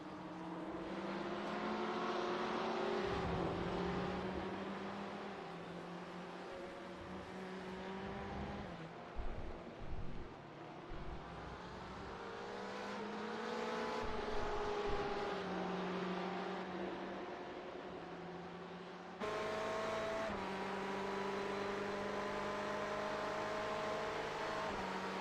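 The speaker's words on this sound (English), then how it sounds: "as you're coming up to the corner, the beamer sounds immense" BMW GTE race car engine roaring in an iRacing GTE league race at the Daytona Road Course, a steady loud drone with pitch rising and falling through gear changes and corners, continuous for the whole stretch with no talk.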